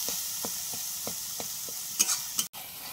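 Spice masala for katla fish kalia sautéing in a pan with a little water, a steady close sizzle punctuated by regular scraping stir strokes, then a couple of sharper clanks near the end.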